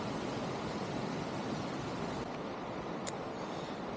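Steady broadband roar of the Nambi waterfall in a forested area of Chhattisgarh, a continuous rushing wash heard alone with no talk and a faint higher tone near the end.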